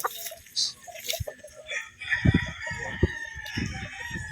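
Boston Sweater stag roosters at a gamefarm crow and cluck, with several overlapping calls from different distances mixed with other bird noise and outdoor clatter.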